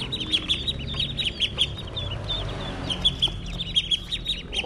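Many baby chicks and ducklings chirp in rapid high peeps, a busy overlapping chorus close by with soft rustling beneath.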